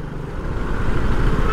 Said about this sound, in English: there's kind of just a massive swarm of cars, of old Mercedes cars going on